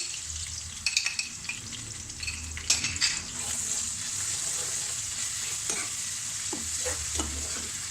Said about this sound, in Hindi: तकरीबन 1 मिनट के लिए मैं इसे भूनूंगी, लहसुन अदरक को 1 मिनट के लिए कुक करना है इसको।